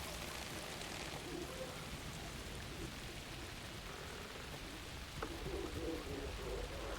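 Steady rain falls in the Alan Wake 2 horror game, a faint, even hiss of drops on surfaces that fills the whole stretch, with a brief sharper patter near the end.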